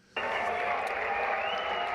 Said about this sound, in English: Oh, and then he's clapping now.